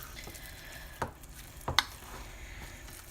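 Chickpeas (garbanzo beans) sizzle quietly in a hot pan, with a few sharp pops and crackles standing out over a steady low frying hiss.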